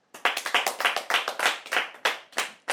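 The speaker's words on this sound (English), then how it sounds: "let us clap first of all to thank the mom who has given us the welcome" A primary school class claps to thank a mother for her welcome: a quick, uneven run of close hand claps that starts abruptly and continues for a few seconds.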